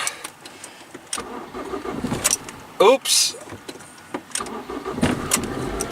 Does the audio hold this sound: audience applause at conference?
no